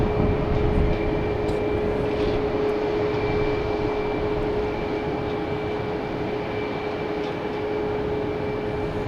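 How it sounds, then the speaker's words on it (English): An American Airlines Boeing 737-800 takes off at Boston Logan, its engines a loud, steady broadband roar with a thin whining tone held throughout, sustained without a break. "Next taking off is American Airlines, the 737-800 heading to Miami"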